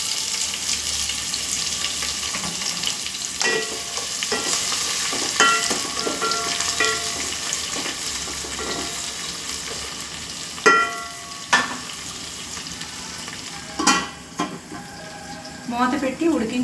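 Two medium onions, sliced lengthwise, go into a pan with frying chicken for biryani and sizzle steadily, with sharp clinks and scrapes of stirring through the middle and end.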